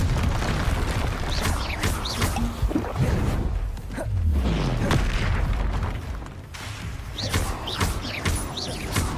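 A Confringo fire spell bursting in the Hogwarts Legacy video game, a deep booming blast midway through a dense, continuous wash of magical combat noise that stays loud from start to finish.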